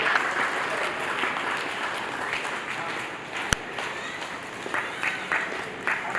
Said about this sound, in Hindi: जोरदार तालियों से अभिनंदन।